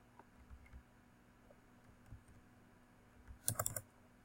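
Quiet, sparse keyboard taps while Java code is typed, a few soft isolated clicks followed by a short quick burst of keystrokes near the end.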